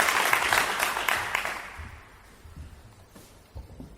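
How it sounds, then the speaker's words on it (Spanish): Audience applause at a Spanish-language lecture on witches and magicians in Guadalajara's history, a dense burst of clapping that swells loud for about two seconds, then thins out into scattered claps that fade. "Así que un aplauso, por favor."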